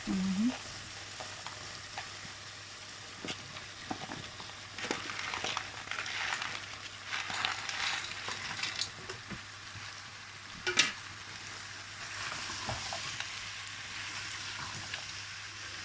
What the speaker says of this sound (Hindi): अब इसमें ये सारी सब्जियां डालेंगे, आलू, गोभी, गाजर एंड पीस।